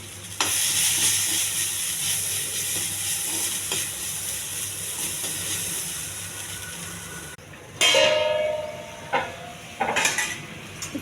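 Okra with turmeric, chili and salt steams and sizzles in a pan, a constant soft hiss at first, then a few sharp clinks and scrapes of stirring.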